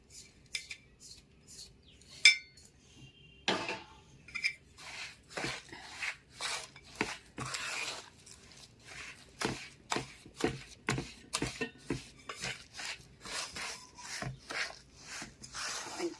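Semolina and milk get stirred together in a vessel for rava laddu, a quiet series of scraping, rubbing strokes with a spoon in an irregular rhythm, close and soft with no talk over them.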